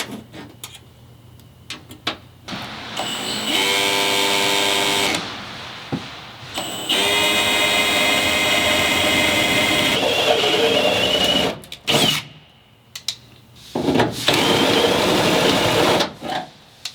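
Power drill boring access holes for PEM nuts in a Ford Transit medium-roof van during a bed kit install, several sustained whining bursts of a few seconds each with short pauses and clatter between them, loud and close.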